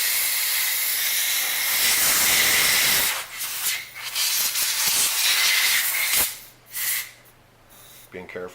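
Compressed air blasts through the bolt receiver of a Remington 582 .22 caliber rifle during field-strip cleaning, a steady loud hiss for about three seconds followed by several shorter bursts with pauses.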